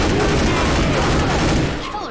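Dense, loud bursts of gunfire from the zombie shooter Left 4 Dead 2 roar almost continuously, with overlapping shots and booms forming a heavy fusillade that fades slightly at the end.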